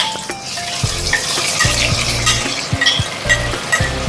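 Onions frying in a pan as a spice mix is stirred in, giving a steady close sizzle broken by repeated scraping stirs and a few light clinks of utensil on the pan, with no talking.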